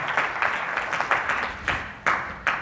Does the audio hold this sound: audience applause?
yes